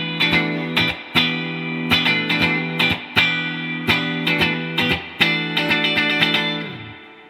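Squier Affinity Stratocaster electric guitar on the middle pickup position, played with mild distortion in a rhythmic strummed pattern of repeated chord stabs and short muted gaps, loud and close with no voices, ending on a ringing chord.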